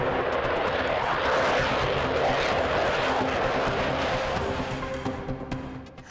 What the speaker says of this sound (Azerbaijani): Rusiyanın qırıcı təyyarələri Baltik dənizi səmasına qalxdı.